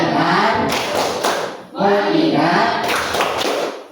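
A classroom of students performs the rhythmic 'tepuk fokus' clapping chant, voices chanting in unison with claps in short bursts and brief pauses between phrases.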